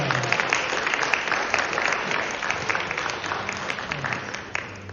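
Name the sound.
audience applauding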